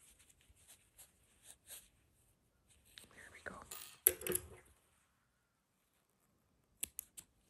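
Small scissors snip crochet yarn close to the edge of an amigurumi piece. A few quick, sharp cuts come near the end after soft handling clicks and a quiet whispery voice.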